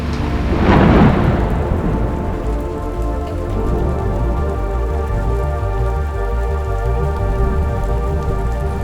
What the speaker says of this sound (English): Comp's about to start and the rain starts.